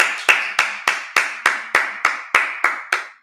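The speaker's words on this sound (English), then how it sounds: "Clap it up." A single pair of hands claps about ten times at a steady, quick rhythm, each clap sharp and close, alone without voices, at a Feast of Tabernacles gathering in Minnesota.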